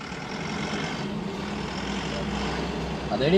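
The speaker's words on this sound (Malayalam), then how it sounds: "വേസ്റ്റ് വണ്ടി വരുന്നുണ്ട്" A garbage truck arrives on a Kerala street, its engine rumbling low and steady at moderate distance, growing slightly louder at the end.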